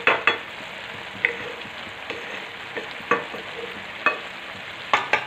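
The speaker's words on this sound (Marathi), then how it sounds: "कूट आणि कोथिंबीर मस्त अशी मिक्स करून घ्यायची आहे" Peanut powder and fresh coriander being stirred into a pumpkin curry in a pan, a soft continuous scraping and gentle sizzle broken by several sharp spoon knocks against the vessel, close by with no talking.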